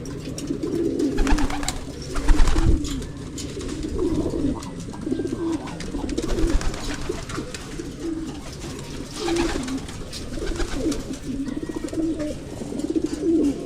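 Pigeons held in a Filipino backyard coo repeatedly in low, throaty rolling calls, close and fairly loud, with soft rustling and background noise between the phrases and no speech.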